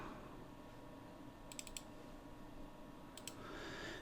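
A computer mouse clicks twice in quick succession, then another quick double click follows a moment later, sharp faint taps over a low steady room hum.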